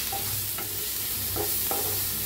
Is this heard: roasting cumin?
yes